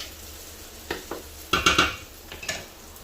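A spoon scrapes and knocks against a pan as bolognese sauce is stirred, a handful of short clattering strokes over a faint background hiss.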